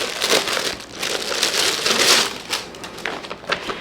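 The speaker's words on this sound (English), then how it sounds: "lots of crinkling per usual." Plastic packaging crinkles and crunches continuously while a cross-stitch kit is unboxed, a close, busy rustle with uneven bursts and no talking.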